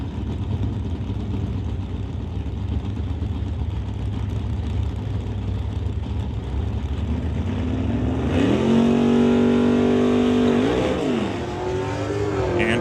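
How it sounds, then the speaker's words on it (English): A Vega and a Chevelle drag racing at an NHRA Summit ET Series event: steady engine roar throughout, swelling as one car revs hard and climbs through the gears, no talk over it. "That brings up Glenn Martin in the Vega to race Walter Johnson's Chevelle"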